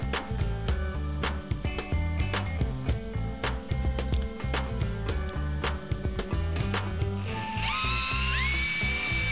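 A ratcheting tool screws bolts into freshly tapped tabs on an electric Volvo V50, giving a steady, loud mechanical clicking close by, with a rising whine near the end and no talk.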